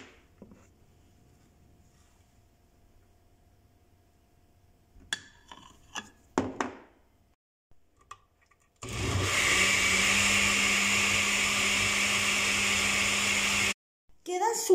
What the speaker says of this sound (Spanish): Y vaciamos todo y volvemos a licuar.